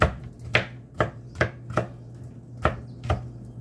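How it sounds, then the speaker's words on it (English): Onion and garlic chopped on a cutting board with a knife, seven or eight close, distinct thuds at a loose, uneven pace over a low steady hum. "we're gonna cut up these onion, right? Yeah, we're gonna cut up the garlic"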